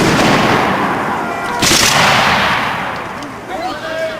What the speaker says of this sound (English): So Lord Cornwallis is going to order a fire at the dragoons. He's shooting at the cavalry.